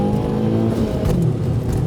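Audi A4 1.8T 20v turbo engine on a standalone ECU revving briefly, a close, loud engine note with a short rise and fall in pitch.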